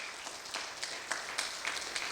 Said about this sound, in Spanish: Denle ese aplauso a Cristo